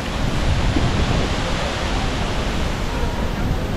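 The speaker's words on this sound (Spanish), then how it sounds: "Es muy, muy linda la cascada." A waterfall in Costa Rica roars as steady broadband rushing water, constant and loud throughout with no breaks.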